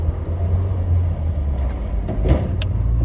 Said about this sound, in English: Cranking, won't even fire on ether.